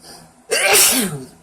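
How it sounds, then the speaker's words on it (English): A single loud, close sneeze bursts out sharply after a moment of near quiet, then trails off in a short breathy release. "Sorry I sneezed."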